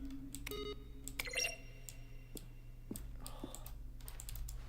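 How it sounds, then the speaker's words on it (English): Button-press sounds from a video game, each a keyboard stroke blended with a synthesized tone: a series of sharp clicks, a few carrying short tonal chirps, spaced irregularly over a steady low hum. "A selection of the sounds used throughout the game when buttons are pressed. Each sound is a mix of a keyboard stroke and a synthesized tone."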